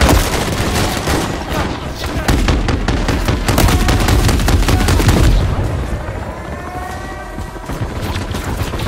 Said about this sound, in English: John got a mounted MG coming your way on an armored vehicle.